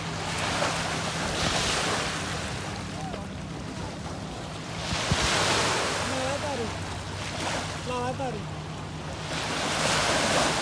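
Ocean waves wash onto a beach in Dubai, broad surging swells rising and falling in slow cycles under heavy wind noise, with people talking faintly in the background.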